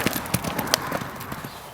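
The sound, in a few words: horse hooves clip-clopping while riding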